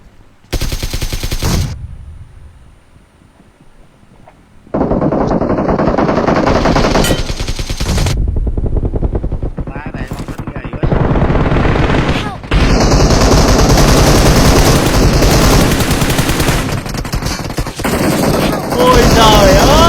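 Rapid machine-gun fire in a squad shooter video game, loud and close, comes in long sustained bursts separated by short pauses, with a shout partway through.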